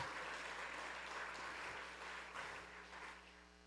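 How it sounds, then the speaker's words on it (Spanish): A church congregation applauds loudly and continuously, a thick wash of many hands clapping at once that holds steady before tapering slightly, heard without talk. "Alguien aplauda fuerte al Rey de la Gloria."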